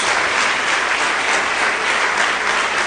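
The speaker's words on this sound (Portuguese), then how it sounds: "dê uma salva de palmas a Jesus" An audience in church applauding, a loud, continuous wash of many hands clapping at once, steady for the whole stretch without speech over it.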